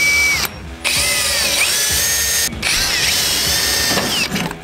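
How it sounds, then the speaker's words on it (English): A power drill with a bit bores through a vehicle's body panel during a sound system and antenna fit-out on an old 4x4, a loud, close whine with two short pauses as the motor stops and restarts. "Get a drill bit that's that size. And just do it like that."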